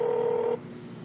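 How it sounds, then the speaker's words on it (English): A telephone keypad tone sounds steadily for about half a second as a number is dialed for a call, then cuts off, leaving a faint line hum. "having not heard from Christina Letcher, I called her and I left the following voicemail message."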